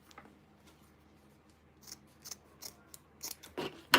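Scissors cut at an angle through the backing of a tufted rug, producing a series of crisp snips that grow louder and quicker toward the end, close by, with no talk over them.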